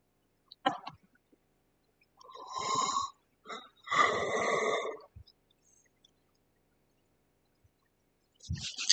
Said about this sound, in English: Pardon me, I'm yawning.